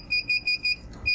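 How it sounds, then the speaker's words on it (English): A Godex thermal label printer beeps four quick, evenly spaced times, then once more after a short pause. The beeps are clear and moderately loud over a low background hum. "printer is beeping."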